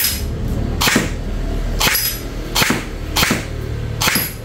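An airsoft gun fires BBs in five sharp, snappy shots spaced about a second apart, close and fairly loud against a quiet background.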